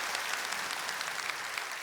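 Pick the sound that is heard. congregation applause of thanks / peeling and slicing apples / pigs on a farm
congregation applause of thanks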